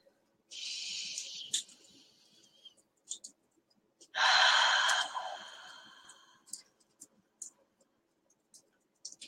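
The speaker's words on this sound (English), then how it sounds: "So breathing in." Slow, deep breaths drawn in and released during a guided meditation: two long, airy breaths heard close and alone, with small soft clicks and quiet mouth sounds between them.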